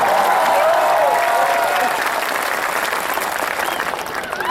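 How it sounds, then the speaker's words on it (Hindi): Loud, dense applause from a large audience at a national poetry gathering at Chandigarh University, steady and sustained throughout with a faint crowd murmur, gradually easing toward the end. "एक बार हाथ खड़े करके तालियां बजा के बताओ कि मैं चंडीगढ़ में आया।"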